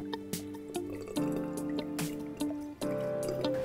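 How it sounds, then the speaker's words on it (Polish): Soaked fruit for a vegan, gluten-free fruitcake is drained, giving close, irregular drips and small liquid splashes over steady tonal background sounds. "I to już jest moment, kiedy powinniśmy odcedzić owoce."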